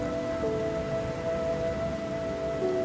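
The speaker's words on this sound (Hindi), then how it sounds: "साथ ही बारिश शुरू हो जाती है।" Steady rain pours down through an animated jungle storm, a dense continuous hiss with a faint tonal hum running underneath; no one speaks.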